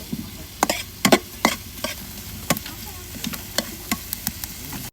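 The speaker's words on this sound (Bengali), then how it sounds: "পেঁয়াজটা আমার লাল লাল করে ভাজা হয়ে গেছে" Onions with spices being fried in oil for a jackfruit dish, heard as a low frying hiss with repeated sharp scraping and stirring clicks from a spoon in the pan, close and fairly quiet.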